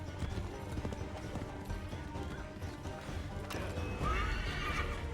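In the Assassin's Creed III video game, a horse neighs loudly near the end over a steady clip-clop of hooves and rumbling gallop, with occasional crashing impacts.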